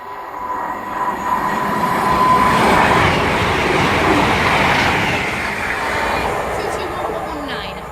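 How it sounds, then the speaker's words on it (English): A Virgin Super Voyager train on the West Coast Main Line at Winsford, bound for London Euston from Glasgow, rumbles past loudly and steadily for several seconds with a swelling roar and faint wheel noise, while a voice speaks over it. "now passing through, we're going to have a Virgin Super Voyager service to London Euston from Glasgow via Birmingham New Street"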